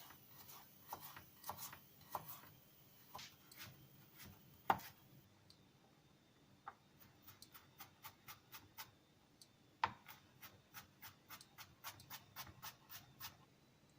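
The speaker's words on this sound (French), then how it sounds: "Donc on réduit le feu le temps qu'on coupe nos carottes." A knife finely chops carrots on a cutting board in a home kitchen, giving quiet, sharp taps in quick irregular bursts with short pauses between them, close and alone.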